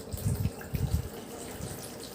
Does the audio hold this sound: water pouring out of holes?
yes